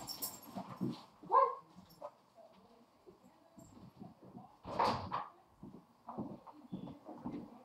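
Dogs whimpering and whining indoors, wanting to be let outside, in short high bursts with a louder cry near the start and another midway, alongside a brief spoken word.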